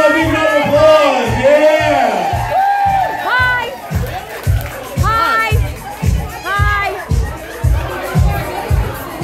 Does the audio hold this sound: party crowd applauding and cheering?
yes